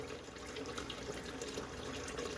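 Water run through a sausage casing while making smoked Polish kielbasa, a soft continuous trickle and splash, close and fairly quiet, with no talk.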